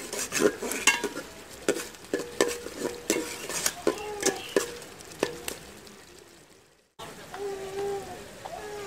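Masoor dal for pulao, with cumin and cloves, is stirred and fried in a pot, giving a steady run of spoon scrapes and clinks against the metal over a soft sizzle, followed by a brief pause before the cooking resumes.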